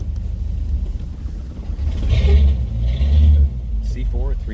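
A 1964.5 Ford Mustang convertible with a C4 three-speed rumbles as it pulls off, its engine surging twice in low swells while someone talks over it.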